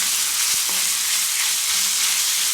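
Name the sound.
pork sizzling in butter and oil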